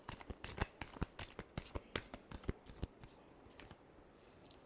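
Tarot cards being shuffled by hand, a close rapid series of crisp riffling slaps that gradually thins out toward the end.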